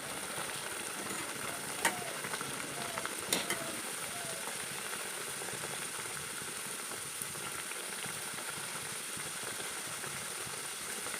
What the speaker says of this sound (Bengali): নিয়ে একটা পরাটা এখানে দিয়ে দিলাম, দিয়ে এখন ভেজে নিচ্ছি